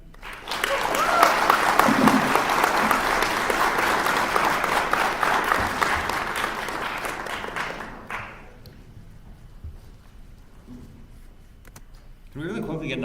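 Crowd applause at a hackathon opening ceremony fills the hall for about eight seconds, loud and dense, then fades to quiet room tone before a voice starts speaking near the end.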